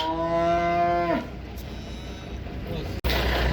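A single cow gives a long, loud, close moo at a busy livestock bazaar in Uzynagash near Almaty. The call breaks off after about a second, leaving crowd murmur and a sharp knock near the end.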